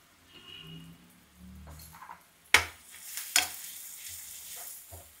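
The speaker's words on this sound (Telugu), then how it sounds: "ఇదిగోండి దోరగా ఇలా వేగిపోయినాయి కదా." Small onions frying in a pan give a faint, soft sizzle in a quiet kitchen, broken by a couple of sharp clinks or stirring knocks partway through.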